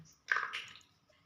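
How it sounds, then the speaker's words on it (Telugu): Tamarind juice poured into a simmering fish curry (grandmother-style chepala pulusu), a quiet, brief wet splash and gurgle lasting about half a second, then fading out. "సో ఇప్పుడు రసాన్ని అయితే పోసేసుకుంటాం"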